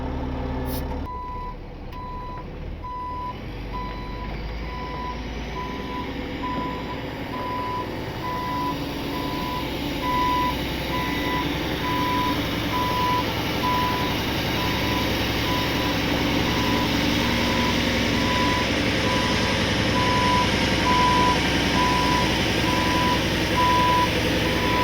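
A Peterbilt tow truck reverses with its backup alarm beeping in a steady, evenly spaced rhythm for the whole stretch, layered over the constant loud rumble of the idling diesel engine nearby.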